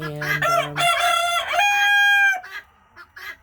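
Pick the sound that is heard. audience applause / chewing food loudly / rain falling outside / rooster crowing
rooster crowing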